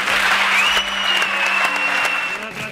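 Applause from a theatre audience at an award moment in Barcelona's Teatre Gaudí, a dense, sustained clapping that fills the room for a few seconds before starting to taper off.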